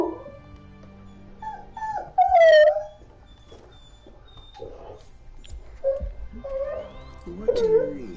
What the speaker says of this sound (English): That's the dog. She wants out.